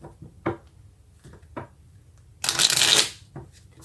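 Tarot cards riffled in a single quick burst, close and fairly loud, after a few soft isolated card taps and flicks.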